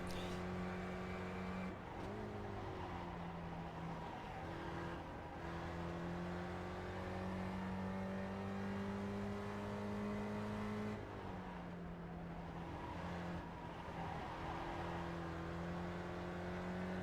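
Steady, loud engine drone of a Spec Racer Ford race car in iRacing, holding pitch with brief dips around gear shifts and lifts before climbing again, alone without talk.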